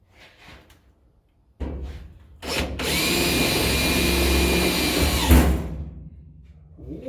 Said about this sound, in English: Just shoot a little self-tapper in there.